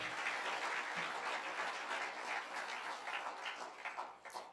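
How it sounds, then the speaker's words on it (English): Audience at a film discussion event applauds steadily, a dense, sustained wash of clapping hands that holds for several seconds before thinning out at the end, with no talk over it. "give y'all self a hand clap for showing up"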